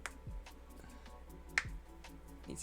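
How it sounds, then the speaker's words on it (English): A single sharp finger snap stands out at close range against a quiet background, with a few softer clicks and rustles around it. "Need to just snap my fingers."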